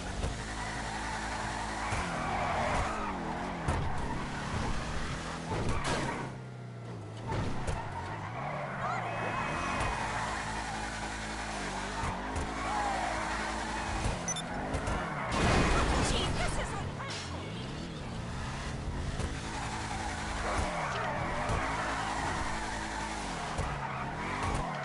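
Car engine revving and tires squealing as a car drifts in the video game GTA V, a continuous loud roar with shifting pitch and skids, plus a brief crash-like burst, while someone talks over it.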